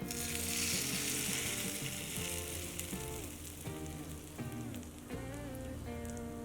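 Hot oil tempering sizzles steadily for a green Thothapuri mango chutney, a loud continuous crackle and hiss with bursts of spluttering and no one speaking.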